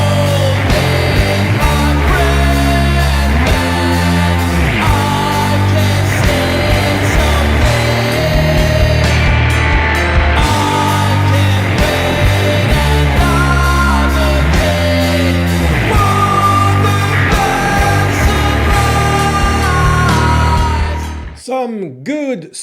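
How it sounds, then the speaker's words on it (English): Stoner doom metal from a Swedish band: loud, dense distorted guitars and heavy drums in a slow, grinding groove that plays continuously before cutting off abruptly near the end. "Some good stoner doom metal here."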